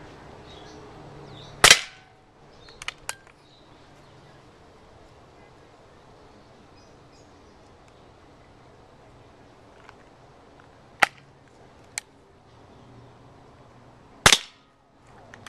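Several sharp pellet gun shots striking a homemade can target from about 15 feet away, a few loud cracks separated by long quiet gaps with faint background noise.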